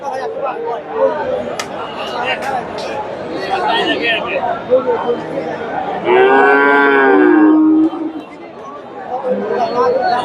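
A Friesian heifer with a little Sahiwal mix gives a long, loud moo at a busy cattle market in Bogura, rising over steady crowd chatter and nearby voices.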